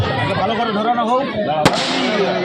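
Fireworks set off at the opening of a school sports and cultural festival: one sharp, loud firecracker bang cuts through steady crowd chatter and voices on an outdoor ground.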